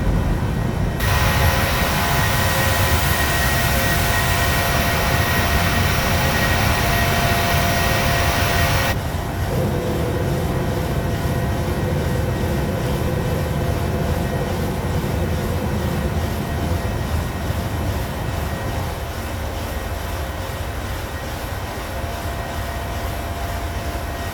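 Jet engines of a PMDG Boeing 737-700 in Microsoft Flight Simulator drone steadily during the climb, a loud, constant roar that drops slightly in brightness partway through and then continues evenly.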